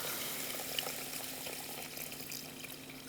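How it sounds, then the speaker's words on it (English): Water is poured steadily into a pot of long grain white rice, a continuous close running splash lasting a few seconds with no voices over it. "So let's add some water to it, and I'll tell you when to stop."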